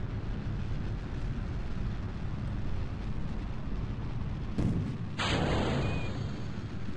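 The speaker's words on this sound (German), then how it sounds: "jetzt schießen wir die Booster weg" A rocket in Kerbal Space Program rumbles in a steady low roar, then a sharp crack marks booster separation, followed by a brighter hiss as the engine sound shifts.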